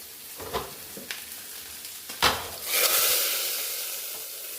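A few scraping clinks, then a sudden loud sizzle as a hot oil tempering of fried mustard seeds hits curry, hissing strongly before slowly dying down.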